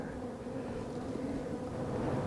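Honeybees swarm around a frame lifted from a hive, making a dense, continuous buzz that stays close and steady throughout with no talking.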